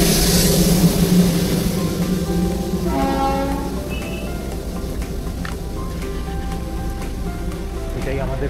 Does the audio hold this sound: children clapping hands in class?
no